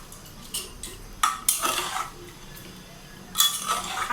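Beef kabab mixture being mixed by hand with a little oil in a bowl, giving intermittent scraping, clinking and squelching bursts close by, with short pauses between strokes.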